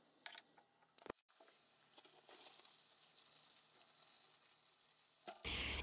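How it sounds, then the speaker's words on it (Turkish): Two dry onions fry in vegetable oil with a soft, steady sizzle, quiet and close, broken early by a few clinks and a brief thud, then a louder hiss swelling at the end. "sıvı yağ, 2 adet kuru soğanı kokusu çıkana kadar kavuralım"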